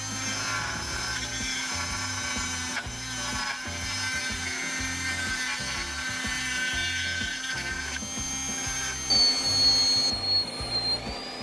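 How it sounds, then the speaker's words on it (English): A high-pitched NSK Presto high-speed dental drill with a 699L bit runs steadily, grinding and rubbing against a thin-walled wooden bowl in short repeated passes, with a sharper squeal near the end. "we're gonna go back to the NSK Presto high-speed dental drill"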